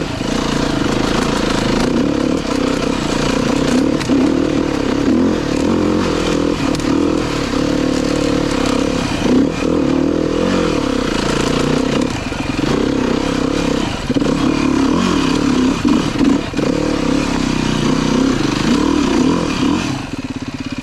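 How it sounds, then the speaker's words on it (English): A Beta 390 RR S four-stroke dirt bike climbs uphill, its single-cylinder engine revving hard and holding loud, gritty revs with small rises and dips, close up, with clatter from the ride. "pay close attention to the revs, the sound of the motor."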